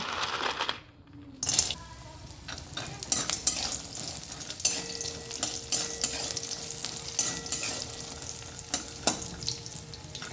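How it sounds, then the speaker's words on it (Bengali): Lentil dumplings sizzle and crackle in hot mustard oil, with scattered clinks and scraping of stirring; a brief quiet gap near the start. "প্রথমে আমি বড়িগুলো ভেজে নেব।"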